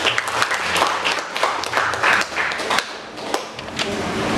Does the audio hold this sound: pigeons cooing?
no